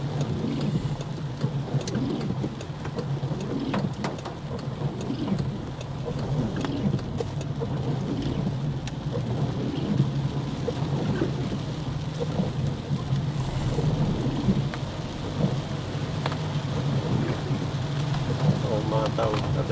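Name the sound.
heavy rain with thunder in João Pessoa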